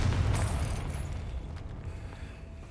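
The Confringo blasting spell explodes in Hogwarts Legacy with a low rumbling boom that decays steadily over nearly three seconds, heard alone without talk.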